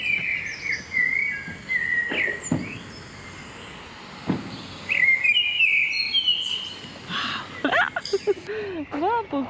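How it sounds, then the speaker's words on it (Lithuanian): Several birds sing and chirp in an old town, with bright whistled phrases and short calls coming in bursts across the scene, some close and some farther off, over faint street ambience and occasional voices. "Va, paukščiai."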